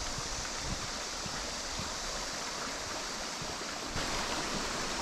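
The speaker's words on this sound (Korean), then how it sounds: "졸졸 흘러가는 강물 소리가 듣기 참 좋습니다." Continuous rushing river water flowing beneath a small cement bridge, steady and fairly close, with a broad even wash of sound and no voices.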